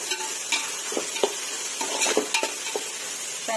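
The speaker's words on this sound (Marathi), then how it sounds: "आपल्याला कांदे चांगले लाल होतेपणा परतून घ्यायचा आहे." Onions sautéed in a pan for a Maharashtrian potato bhaji, browning over heat: continuous close sizzle broken by repeated scraping stirs of a spoon, with no talking.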